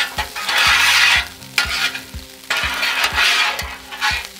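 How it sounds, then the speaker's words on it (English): Green chile breakfast hash sizzles loudly on a two-burner griddle, with bursts of frying hiss broken by close scraping and stirring clicks of a spatula as the food is pushed along the surface. "Go ahead and we'll move this down to this side of the griddle."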